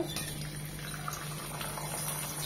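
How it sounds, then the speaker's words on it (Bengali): Whole spices frying in about four spoons of hot soybean oil in a kadai, the start of a beef curry. A steady, low sizzling hiss runs throughout with no voices. "তেলটা গরম হয়ে এসেছে, দিয়ে দিব কিছু গোটা মশলা।"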